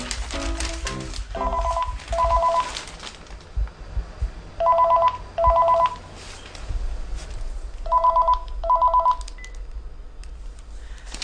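A telephone rings in three short double bursts of electronic tones spaced evenly apart, loud and close over a faint background hum, with no talking.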